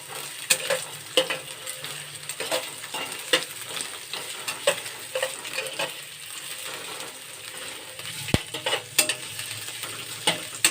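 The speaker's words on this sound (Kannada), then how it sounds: "ಎಣ್ಣೆ ಬಿಸಿ ಆದಮೇಲೆ ಕಟ್ ಮಾಡಿ ನಂತರ ಈರುಳ್ಳಿ ಹಾಕೊತಾ ಇದ್ದೀನಿ ಈರುಳ್ಳಿ ಹಾಕೋಬಿಟ್ಟು ಕೆಂಪು ಫ್ರೈ ಮಾಡ್ಕೋಬೇಕು" Onions fry in hot oil in a kadai with a soft, continuous sizzle, broken by sharp clicks and scrapes of a stirring spoon against the metal at irregular intervals.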